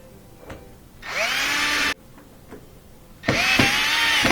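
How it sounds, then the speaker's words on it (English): Power drill driving screws into the door of a Miele dishwasher, two separate bursts of whirring motor each lasting under a second, close and loud, with small clicks and handling noise in the quieter gaps. "We're going to put those screws in."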